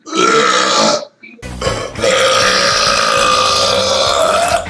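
A man lets out a loud, long burp after drinking Coke, a brief pause, then a second drawn-out belch, close and alone.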